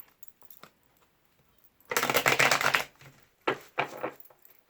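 Two bursts of riffling card-shuffle rustle, a longer one followed by a shorter one, with soft taps and quiet pauses around them.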